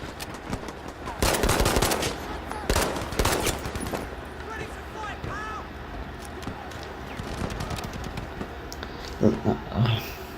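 Rapid bursts of P08 pistol fire in a first-person shooter video game, loud clustered shots early on and scattered reports later, with game sounds throughout.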